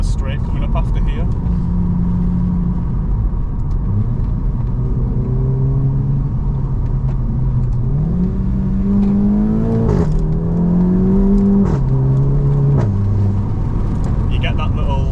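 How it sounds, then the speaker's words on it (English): A Golf GTI MK7.5 fitted with a Remus exhaust accelerates through its gears, the engine note rising in steady sweeps and dropping at each shift, heard from inside the car as a loud continuous drone. "it is fitted with a Remus exhaust, and compared to normal, you do get a bit more noise"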